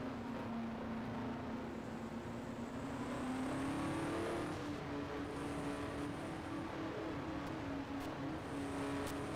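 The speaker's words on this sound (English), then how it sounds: "we'll have green flag this time by the sound of the revs in David's car" A 1974 USAC race car engine at Trenton drones and revs at a steady pitch, rising slightly partway through, fairly distant and continuous with no voices.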